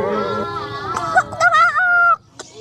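Chicken or rooster calling near the Chocolate Hills in the Philippines, a loud close series of warbling, strained clucks and crowing-like notes rising and falling over about two seconds.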